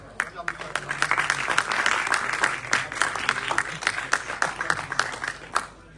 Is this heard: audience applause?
yes